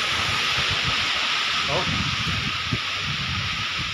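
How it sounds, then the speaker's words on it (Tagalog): Loud, steady roar of strong wind buffeting close by, continuous throughout, with a brief voice exclamation. "Sobrang lakas ng hangin dito."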